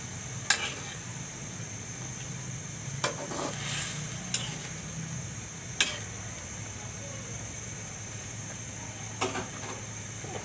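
A curry of jackfruit seeds, hilsa fish and rohu fish roe bubbles in a pan with a faint, steady simmer, broken by a few sharp utensil taps against the pot.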